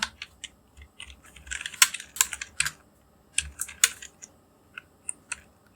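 Fingers type on a computer keyboard while entering accounting data in Tally Prime, giving quick irregular bursts of crisp clicks with short pauses, close and fairly quiet.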